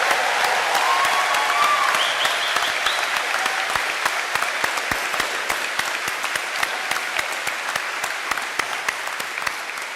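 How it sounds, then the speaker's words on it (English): A gym full of people applauds at a 2021 high school graduation ceremony: loud, sustained clapping with sharp individual claps standing out and a faint whistle early on, holding steady for ten seconds. "please give this group standing the loudest applause they have ever heard"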